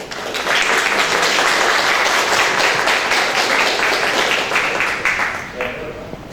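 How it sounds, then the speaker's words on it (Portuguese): An audience at an evening lecture on election campaign planning bursts into steady, full applause welcoming a sociologist speaker, sustained for several seconds before tapering, with a voice speaking over it. "pediria a todos uma salva de palmas"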